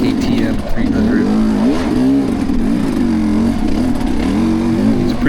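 Engine of a 2025 KTM 300 dirt bike running steadily on a singletrack trail, its pitch rising and falling through continuous revs close by, with a voice talking over it.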